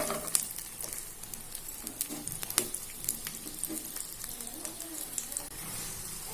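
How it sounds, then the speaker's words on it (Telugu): Garlic frying in hot oil in a pan: a steady close sizzle with crackling pops and occasional stirring clinks, no speech. "ఆయిల్ వేడెక్కిందండి, వెల్లుల్లి ముందుగా వేయించుకుందాము."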